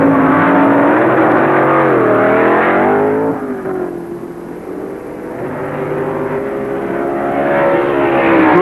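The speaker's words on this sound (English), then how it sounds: "Final round of ProStock is Don Grothier against Grumpy Jenkins and his Chevy Vega." Pro Stock drag cars at an NHRA final round, one a Chevy Vega, roar past with a loud, rising engine scream that dips midway and then swells again, close and dominating, no voices.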